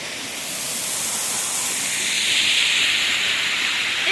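A waterfall gives a steady, loud broadband rush and hiss that swells slightly. It sounds close and continuous, with no voices.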